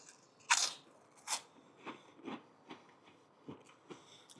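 Crunchy prawn crackers from a Chinese takeaway being bitten and chewed close up, one sharp loud crunch followed by a series of quieter rhythmic crunching chews against a quiet background.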